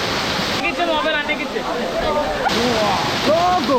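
Rushing water of Katiki Waterfalls in Araku, a broad, steady roar that fills the whole clip, with a person speaking briefly over it.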